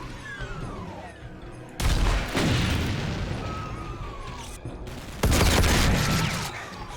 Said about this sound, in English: first we need to shoot all these motherfuckers that have decided to come over